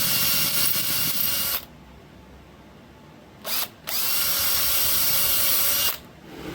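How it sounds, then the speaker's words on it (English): A power drill bores holes into wood for a wooden paper towel holder: a loud whine for under two seconds, a brief blip, then a second two-second run before stopping. "I'll do the same to the other side and we'll drill those."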